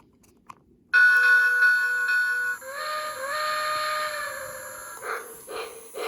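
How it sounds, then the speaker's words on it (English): Lionel Pennsylvania starter set toy train running in sound mode: a loud, steady electronic steam whistle holds for several seconds, then shifts into hissing chuffs with a sustained tone, close and alone. "It has some nice chuffing sounds with whistle every once in a while."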